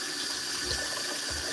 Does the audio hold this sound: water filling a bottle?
yes